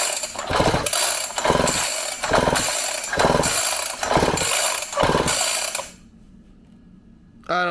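The pull-start cord on a Syx Moto 50cc dirt bike is yanked repeatedly with the spark plug out, making about six rhythmic ratcheting whirs in a row. Each pull sounds loud and close, then a short quiet gap follows and one last tug comes at the end.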